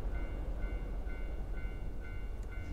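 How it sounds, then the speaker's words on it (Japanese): Train noise in the horror video game Tsugunohi, a steady low rumble of a passing train with faint tonal squeals above it, close and continuous throughout with no voices. "どうして電車の音がすごく近くに聞こえる。"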